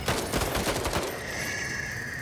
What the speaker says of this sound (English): Let's do a regular shot here.